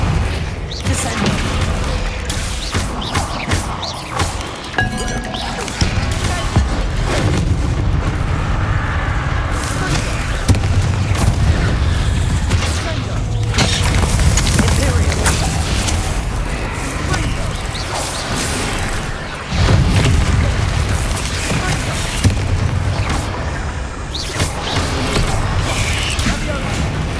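Bombarda spell blasts in Hogwarts Legacy burst repeatedly amid a busy, loud game mix of booms, crashes and whooshes, with brief spoken spell names over a continuous rumbling battle.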